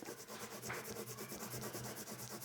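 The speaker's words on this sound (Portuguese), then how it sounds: "De ladinho assim para apagar um pouquinho. Vou usar borracha mesmo." A rubber eraser rubs sideways on drawing paper in quick, even back-and-forth strokes, a soft rhythmic scratching close up with no talk.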